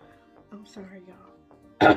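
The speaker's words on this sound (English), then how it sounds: "All these burps." A woman burps after drinking water, with low voiced belching sounds scattered over two seconds and a louder, harsher burst right at the end; no clear words spoken.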